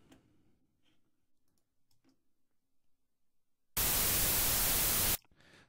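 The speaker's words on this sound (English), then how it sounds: "So I've just got a white noise sample." A burst of static white noise sample for music production cuts in abruptly for about a second and a half, loud and flat, then stops sharply, after quiet faint ticks and clicks.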